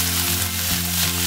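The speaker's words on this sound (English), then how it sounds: "About 3 minutes later, they're sizzling away and they're brown on the other side" Turkey burger patties sizzling steadily in a hot frying pan, a continuous loud crackling hiss with a constant low hum beneath, no voices.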